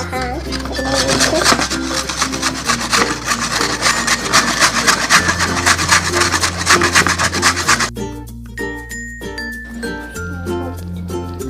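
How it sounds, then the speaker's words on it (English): Carrots are shredded for carrot cake with rapid, rhythmic rasping strokes that are loud and close for about eight seconds, then give way to quieter clinks and scraping. "We're gonna start by shredding our carrot."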